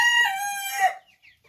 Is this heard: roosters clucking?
yes